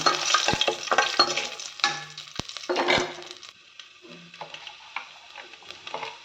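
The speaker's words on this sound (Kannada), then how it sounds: "ಬೆಳ್ಳುಳ್ಳಿ ಹಾಕಿ, ದಾಲ್ಚಿನ್ನಿ, ಲವಂಗ, ಮೆಣಸು ಹಾಕಿ, 4 ಒಣ ಮೆಣಸಿನಕಾಯಿ ಹಾಕಿ ಚೆನ್ನಾಗಿ ಫ್ರೈ ಮಾಡಿ." Garlic, cinnamon, cloves, pepper and dry chillies frying in a pan for a simple cashew masala, a close, steady sizzle broken by stirring scrapes and utensil taps.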